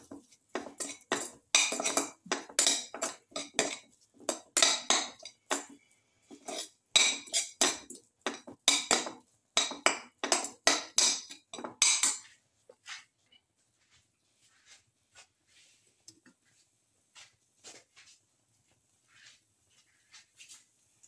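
Split chickpea rice casserole ingredients mixed in a pot, a fast run of loud metal spoon scrapes and clinks for about twelve seconds, then sparse faint taps.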